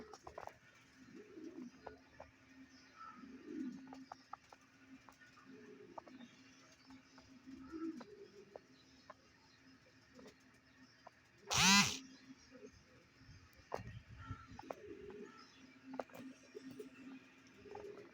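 Pigeons coo softly in low repeated phrases after rain, faint and somewhat distant over a dull ambient background, with a brief louder clatter about midway and scattered small rustles.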